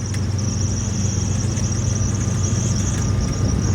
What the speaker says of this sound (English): So she should rev out to about 3700 RPM or thereabouts.